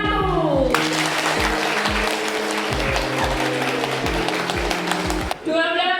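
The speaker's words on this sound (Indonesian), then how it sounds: "Berikan aplaus untuk kelompok 1" A classroom group gives steady applause for group 1, dense clapping from many hands lasting several seconds while a voice speaks over it.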